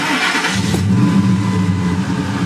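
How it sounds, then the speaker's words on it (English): A 2002 Ford F150 Lightning's supercharged 5.4 V8, which has lean fault codes, cranks briefly and catches half a second in, then settles into a loud, close, steady idle hum. "All right, restarting the engine."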